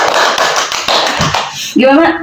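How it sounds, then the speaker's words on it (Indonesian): A small group bursts into quick, close clapping during an interview-style character-building session; the claps run for a moment, then a voice speaks as they stop. "Tepuk tangan."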